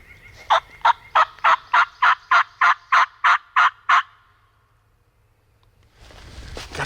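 A wild turkey gobbles out in an open field in New York, a rapid run of about eleven sharp, loud gobbling pulses in one burst, then quiet before a rustling noise rises at the end.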